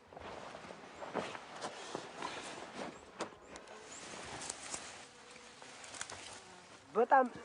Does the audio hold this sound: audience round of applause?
no